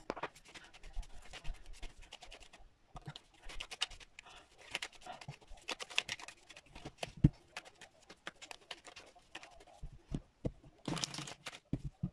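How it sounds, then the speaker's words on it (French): Tarot cards are shuffled by hand in a string of soft, close scratchy riffles and taps, irregular and fairly quiet, with a few sharper bursts of card flutter. "je vais battre les cartes"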